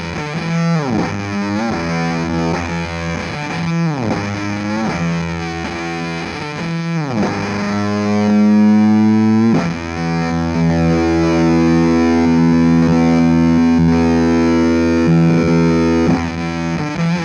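Electric guitar through an EarthQuaker Devices Gary modulation fuzz and overdrive pedal, a thick distorted tone with plucked notes and chords ringing out, some picked softly and some harder, plus a sustained wavering passage midway, played alone without speech.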